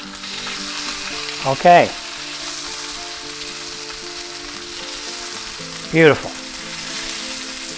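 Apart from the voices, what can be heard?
chicken searing in a frying pan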